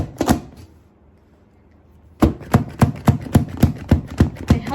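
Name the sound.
Temu vegetable chopper chopping onion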